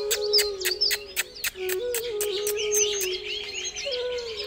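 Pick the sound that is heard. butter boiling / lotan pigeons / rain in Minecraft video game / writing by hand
lotan pigeons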